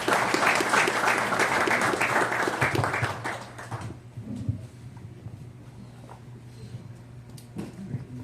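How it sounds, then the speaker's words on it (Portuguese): Applause from an audience at a municipal political party meeting in São Bernardo, loud and dense for about four seconds before fading into scattered claps and room noise. "Uma salva de palmas."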